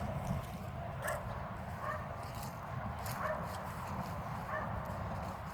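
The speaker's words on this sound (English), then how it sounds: "You hear my dog Bruno barking in the background." A dog barks repeatedly in the distance, short yips spaced about a second apart over a steady outdoor hum.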